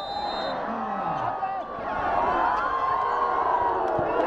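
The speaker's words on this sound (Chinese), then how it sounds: "随着哨声响起，野兽般的吼叫声响彻云霄，密密麻麻的人群围着球场" A dense crowd packed around a village basketball court in Taipan, Guizhou, roars and cheers in a continuous wash of noise. Shouts rise out of the din, and a voice talks over it.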